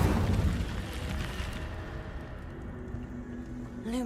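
Incendio fire spell cast in Hogwarts Legacy, a loud rushing burst of flame that fades away over a couple of seconds, followed by a faint rising magical shimmer at the end.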